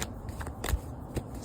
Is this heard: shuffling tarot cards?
yes